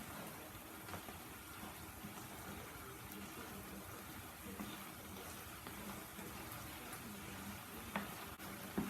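Sloppy joe meat being stirred in a frying pan, a steady soft sizzle with scraping stir noises running evenly throughout, fairly quiet and close.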